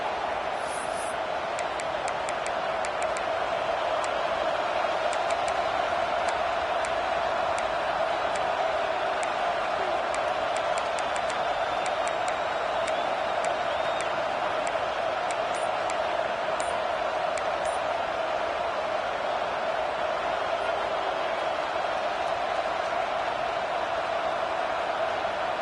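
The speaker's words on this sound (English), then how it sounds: "The roar of the crowd trying to fuel this defense to keep them pinned in their own end." Stadium crowd at a college bowl game roaring steadily as the defense holds the opponent deep in their own end, a dense, sustained wash of noise with no break for its whole length.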